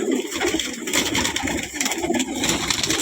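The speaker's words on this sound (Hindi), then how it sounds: "उड़े हुए कबूतर मेरे भाई बहुत ही अच्छे" Pigeons at a breeder's loft in a dense, continuous burst of cooing and fluttering bird sound, steady and fairly close with no speech over it.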